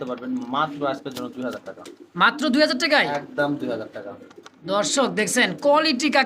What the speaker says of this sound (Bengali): আরো এক জোড়া আপনার হচ্ছে ড্যানিশ কবুতর এটা হচ্ছে পাকিস্তানি ব্লাড লাইন